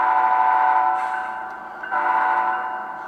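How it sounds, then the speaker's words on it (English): A locomotive air horn from a Tsunami2 sound decoder sounds loud and close in two sustained blasts, each trailing off into an echoing tail. "Now let's listen to that air horn."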